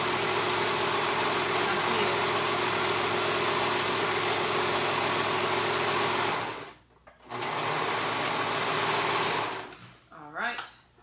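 A serger sewing machine overlocks a seam on fabric for paper bag pants, running in a fast, loud, even whir for several seconds, pausing briefly, then running again before stopping.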